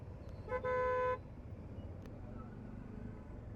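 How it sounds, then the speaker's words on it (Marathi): A car horn gives one short toot followed by a longer blast amid low road traffic rumble heard from a bike descending through traffic near Lonavla, the horn moderately distant and the rest a steady faint drone. "हे इकडे ट्राफिक आहे बघा खालती उतरताना"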